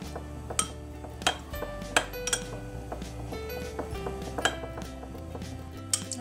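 A spoon clinks steadily against a bowl while tomato paste is stirred with a few spoonfuls of water, with light irregular scraping and tapping close by, no voices.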